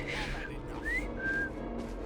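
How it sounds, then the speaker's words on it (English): A character whistles in Assassin's Creed Syndicate, a few short rising and sustained whistled notes with gaps between them over low game ambience. "I've just learned to whistle."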